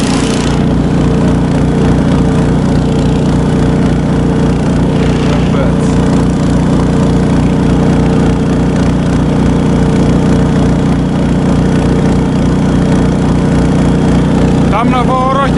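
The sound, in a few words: vehicle engine driving at medium revs on winter trap line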